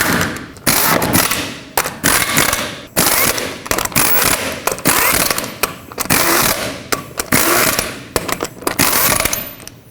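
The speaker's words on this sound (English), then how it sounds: "Start on all of your lug nuts, bottom them out, and then torque them to 140 foot-pounds." Impact wrench or ratchet running lug nuts onto a front wheel of a 2003-2021 Chevrolet Express van, loud rapid mechanical rattling bursts repeated in several runs with short pauses between them, no talking.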